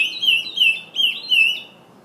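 A person imitating a bird call with a run of whistled chirps, each sliding up and down in pitch in short bursts, clear and close, with no talk.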